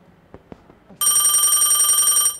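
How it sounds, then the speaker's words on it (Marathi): A telephone bell rings loudly in one continuous trill that starts abruptly after a few faint knocks and cuts off after about a second and a half, with no talking over it. "फोन"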